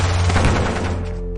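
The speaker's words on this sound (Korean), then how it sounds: "북쪽에서도 총성이 응답했다." Simulated gunfire from an exchange of shots across the Korean border: a short, loud, rapid burst of shots that quickly fades.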